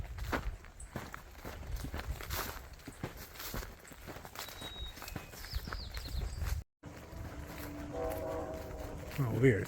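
A train horn sounds in the distance, thin and faint, under outdoor footsteps and rustle on a trail, with a low rumble of rail traffic.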